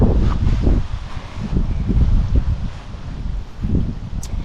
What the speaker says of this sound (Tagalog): Grabe ang hangin. Grabe. Sobrang lakas ng hangin